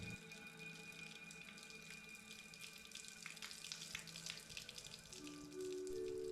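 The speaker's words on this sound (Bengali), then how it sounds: "এই সদা প্রবাহিত জলধারা এখানে গুপ্ত গঙ্গা নামে পরিচিত" Steady flowing water from an ever-running spring at a Hindu temple, a continuous splashing trickle heard alone at low level with faint background clatter.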